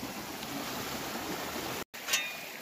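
Water flows steadily through a side creek along a marble-strewn, gold-bearing creek bed below a geological fault line, a continuous soft rushing wash that holds even throughout with a brief dropout near the end.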